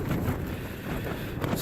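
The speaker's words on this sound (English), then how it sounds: "Why is it always so fucking windy on these hills" Strong wind gusting across an open hilltop in the Lake District, a steady loud roar buffeting the microphone throughout with no voices.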